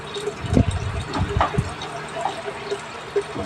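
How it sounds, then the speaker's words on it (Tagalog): Water flowing and trickling from the drain hose of a Panasonic top-load washing machine with a water level sensor fault, a steady close wash of liquid with a few louder splashy bursts and small drips. "tuloy pa rin ang agos ng kanyang hose, nagdi-drain pa rin"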